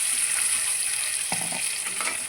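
Tomato and coriander paste goes into a hot pan of tempering spices, giving a loud, steady sizzle with a few brief stirring scrapes and spatters near the end, with no talk.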